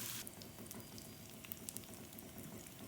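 Green chillies fry in a pan for a black lentil dish with a faint, steady sizzle and a few small crackles and pops.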